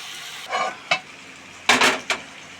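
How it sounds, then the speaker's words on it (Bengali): Vegetable curry of potato, onion, tomato, okra and raw chickpeas fries in a pan, with four distinct scraping stir strokes, two of them longer, over a low steady sizzle, close and fairly loud. "এটা একটু ভাজা ভাজা হবে"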